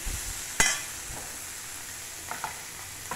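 Boiled bitter gourd pieces fry for curry in a pan, with a steady close sizzle broken by one sharp spatula knock and a few lighter stirring taps.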